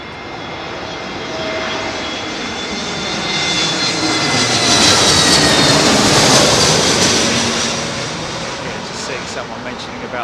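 An airliner passes overhead on final approach to runway 27L at London Heathrow, a broad jet roar that swells to a loud peak at mid-clip and then fades slightly, heard alone without voices.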